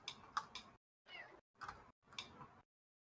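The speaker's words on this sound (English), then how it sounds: "Really sounds like a cat." A cat meows in a quiet room, four short separate calls in a row, the first a quick double, fairly faint and with nothing else around them.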